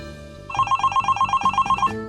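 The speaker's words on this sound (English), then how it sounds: "got a phone call at work" A telephone bell rings in one fast, rattling burst of about a dozen evenly spaced strikes, close and clear, lasting under two seconds.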